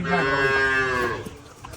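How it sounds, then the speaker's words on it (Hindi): A water buffalo lets out a single loud, close moo lasting about a second, its tone drawn out and gliding, followed by quieter farmyard background. "ये भैंस है मेरे डेरे की बहुत अच्छी एक्स्ट्रा आउट क्लास भैंस है।"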